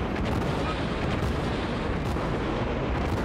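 Rapid continuous naval gunfire from the Tier III cruiser St. Louis in World of Warships, a dense rolling barrage of booms with no gaps, steady and loud throughout.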